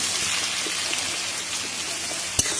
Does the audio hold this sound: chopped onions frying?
yes